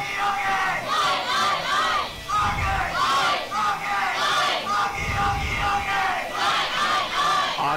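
Fans in a crowd at a bronze-medal match between Great Britain and Ukraine chant and yell in rhythmic bursts, loud and close, with deep drum-like thumps under the chanting.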